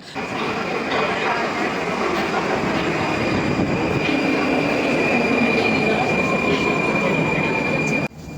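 A loud, steady rumble of a metro train at a platform, with a high, sustained wheel squeal running throughout, then a sudden drop in noise near the end.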